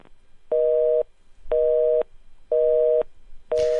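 A telephone busy signal after a call cuts out mid radio interview: loud, steady tone beeps, four of them, each about half a second on and half a second off, alone with no voices.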